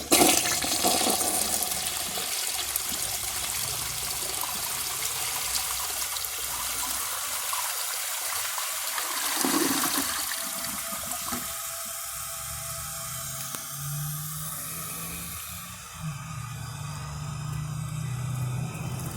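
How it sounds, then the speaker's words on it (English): A 1987 Norris toilet flushes a washcloth: a loud, rushing close-up surge of water that churns for many seconds, then tapers into a gurgling drain and a quieter refill hiss, with no talking. "when it fills to that line, I'll flush this washcloth"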